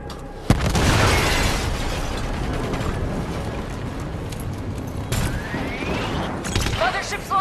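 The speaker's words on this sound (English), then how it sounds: "Missiles incoming!" Missile explosions in Call of Duty: Black Ops 3, a sharp blast followed by rumbling, sustained destruction and a second burst later, loud and close amid battle noise with voices underneath.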